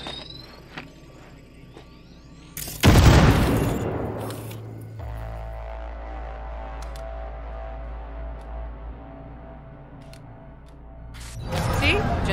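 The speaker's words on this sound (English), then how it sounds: "Now, detonate the grenade." A grenade detonates in the video game Cyberpunk 2077, giving one loud, deep boom that rolls into a long rumbling decay, with a low drone continuing beneath and another burst of noise near the end.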